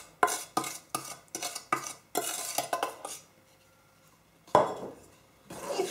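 A spoon stirs egg, honey, and melted butter with sugar in a bowl for Christmas gingerbread dough, making a run of quick scraping clinks, then a pause and two more strokes.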